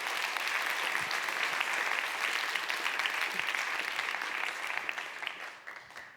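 Applause from the audience at a design leadership summit, a thick continuous roar of clapping held at full strength before tapering off in the final second.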